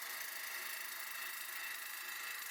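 Ash wood table legs spinning on a lathe: a steady, even high hiss of the tool cutting the turning wood, constant and fairly faint throughout, with no talk.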